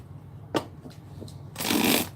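Tarot cards shuffled by hand in a long dry riffling rush after a couple of short soft taps, close and clear with no talking.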